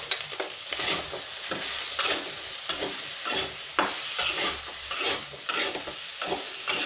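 Potatoes with cumin powder and green chilli cook in a pan over a medium flame under a continuous sizzle, stirred in regular scraping strokes every second or so, close and steady.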